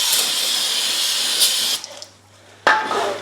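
Brake cleaner hisses in a steady, close spray onto a rear wheel hub of a 2017 Honda Accord, stopping briefly and then resuming with a sharp burst, with no talk.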